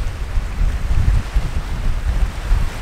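A strong wind gusts along a lake shore in the Quebec wilderness, with low, buffeting rumble and constant rushing noise battering the microphone, loud and unbroken and with no voices.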